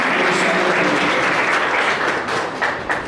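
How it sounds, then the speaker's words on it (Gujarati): Thick, continuous applause from an audience at a felicitation ceremony welcoming the founder, a dense wash of clapping that fills the whole moment and eases off slightly near the end. "આપણે તાળીઓ સાથે એમને આવકારી"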